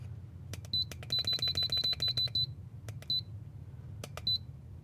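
An electronic device beeping in a quiet room: clusters of short high-pitched beeps, one rapid run of about a dozen, then sparser single and paired beeps over a low steady hum.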